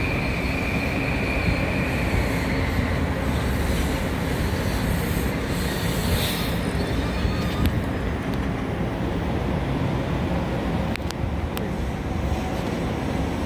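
Metro-North train wheels squeal on the rails of the Northeast Corridor at Darien, Connecticut, a shrill sustained screech over the constant rumble and clatter of passing railcars, fading partway through.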